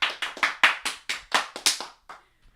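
About nine separate, evenly spaced hand claps ring out close and sharp, a slow deliberate round of applause on a podcast that stops after two seconds, with a faint final tap.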